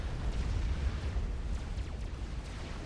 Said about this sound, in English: This Megalith is now getting 12 cannons rammed down its throat.